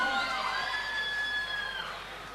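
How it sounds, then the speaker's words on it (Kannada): Audience at a Yuva Dasara yoga performance by Mysuru yoga students greets the performers with a steady crowd roar of applause and cheering, with children's shouts mixed in. "ಜೋರು ಚಪ್ಪಾಳೆಯ ಅಭಿನಂದನೆಗಳನ್ನ ತಿಳಿಸೋಣ"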